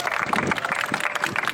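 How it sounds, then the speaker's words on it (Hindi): Audience clapping at an open-mic poetry gathering on a ghat in Varanasi, a dense steady patter of many hands lasting throughout, fairly close and even in level. "एक बार जोरदार तालियां होनी चाहिए।"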